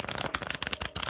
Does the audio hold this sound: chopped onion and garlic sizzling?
no